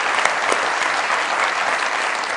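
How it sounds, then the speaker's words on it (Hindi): A studio audience at a talk show gives dense, even applause to welcome guests, a loud and continuous patter of many hands with no talking over it. "बहुत सारी तालियों में वेलकम कीजिएगा"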